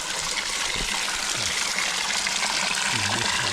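Waterfall water gushing down over smooth, slippery rocks in a jungle, a steady broadband rush that stays loud and continuous throughout, close by and without talk.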